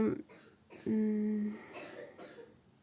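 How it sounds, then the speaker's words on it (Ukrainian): A child coughs a few times in short bursts, with a harsh rasping cough near the middle, close by in a quiet room. "бачите, кашляє, але вже менше кашляє"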